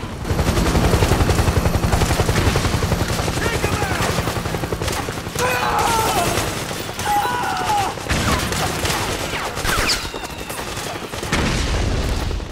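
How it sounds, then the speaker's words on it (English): Dense, continuous bursts of gunfire and booming explosions from the video game Metal Gear Solid 4: Guns of the Patriots fill the clip, loud and chaotic, with occasional sharper crashes. "Too many explosions!"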